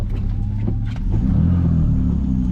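BMW E46 car engine running while driving, a steady low rumble from inside the cabin that swells slightly in the second half, with faint road and tire noise underneath.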